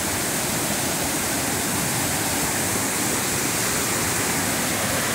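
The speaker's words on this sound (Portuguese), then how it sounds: "O poder da água, como é que tá forte." Strong river water rushes in a steady, loud broadband roar with no break, a forceful current where fish are being caught by hand.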